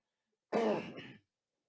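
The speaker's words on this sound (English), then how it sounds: "See, I'm trying to clear my throat." A man clears his throat once, a short rough rasp that fades out quickly, heard close and alone against silence.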